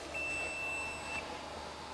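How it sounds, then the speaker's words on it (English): A single electronic beep of unknown origin sounds near a radio workbench where a sharp 455 kHz IF filter is being built, a steady high tone lasting about a second over a faint background hiss. "I hear a lot of beeps, don't know where they come from."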